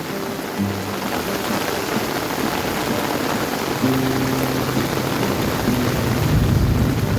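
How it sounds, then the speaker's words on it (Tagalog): Steady rain pours down continuously, a dense wash of drops hitting surfaces nearby, with no voices and occasional faint low tones underneath. "Sarap maligo sa ulan."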